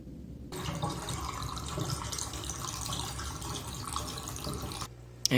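Aquarium water gets dumped down a bathroom drain in one continuous splashing pour that starts abruptly and stops near the end, with no talking over it.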